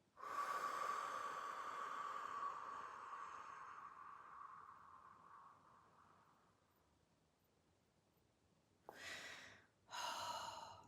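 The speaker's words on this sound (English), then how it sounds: "take a big deep breath and then let it out like" A person takes a long, deep breath and lets it out slowly, a close airy exhale that fades over several seconds, followed by two short, sharp breaths near the end.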